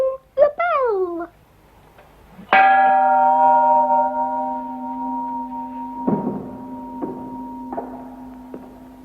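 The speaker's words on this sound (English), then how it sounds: "We'll ring the bell." A bell at a mill or house rings once with a bright, sustained metallic tone that decays slowly, struck again a few times more softly, preceded by a brief high squeaky call.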